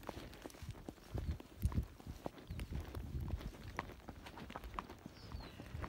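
Hooves of a ridden Tennessee Walking Horse cantering on a trail, a quiet, uneven series of soft thuds and clops heard fairly close, with no talk.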